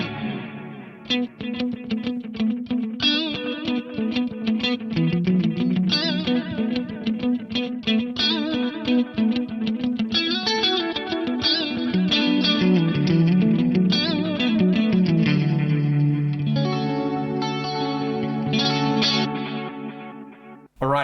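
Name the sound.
stereo delay effect from an Eclipse effects unit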